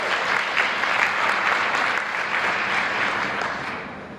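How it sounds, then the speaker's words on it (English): Sustained applause from a crowd of dinner guests honoring co-sponsors at an Assyrian language and culture celebration dinner in Niles, Illinois, steady and full throughout before easing slightly at the end. "Another round of applause for our D219 Suraya co-sponsors."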